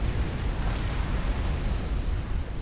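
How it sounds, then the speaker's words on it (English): A strategy-game ion explosion from an ACU roars as a loud, continuous broadband rumble, dense and sustained throughout with no pauses. "here comes the another ion explosion, this time from the Siren player known as Control K."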